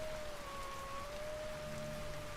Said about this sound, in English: Wow, it's raining, not snowing.